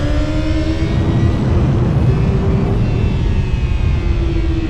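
A 2025 Honda CBR 1000RR-R Fireblade SP ridden hard on a race track, a loud, steady high-revving engine drone with rising whine, close and constant throughout, no voices.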